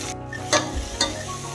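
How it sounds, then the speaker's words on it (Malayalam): Mustard seeds, onion and garlic sizzle in hot oil during tempering, a steady close frying hiss broken by a couple of brief louder crackles or stirring scrapes. "ഉള്ളിയും വെളുത്തുള്ളിയും ഒക്കെ താളിച്ച്"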